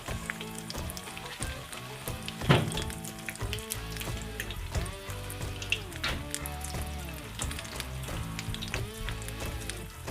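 Smoked shredded beef rolled tacos fry in grease at 350 degrees, giving a steady close crackle and sizzle with scattered pops and one sharper clatter, no voices over it.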